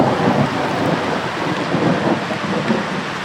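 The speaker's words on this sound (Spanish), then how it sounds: "un rayo tronó en las cercanías" Loud thunder rumbles close overhead during a heavy storm, a dense sustained roll blended with steady pouring rain, no voices.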